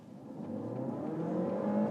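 A Peugeot Sport 508 PSE hybrid accelerates hard from standstill toward 62 mph in sport mode, its engine note climbing steadily and growing louder from inside the cabin.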